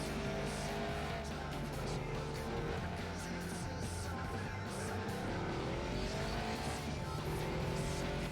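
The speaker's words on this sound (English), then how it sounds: "the racing exhaust on this car sounds great in this game" A race car in Gran Turismo 4 runs with a racing exhaust, its engine droning loud and continuous as it revs up and down, with tyres squealing through the corners.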